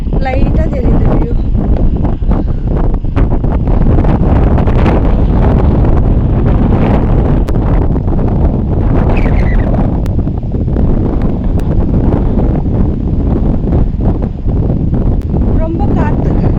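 Strong wind roars across a foggy hilltop at Kabbe hills near Virajpet in Coorg. The gusts batter the microphone loudly and without a break, and a voice may sit faintly underneath.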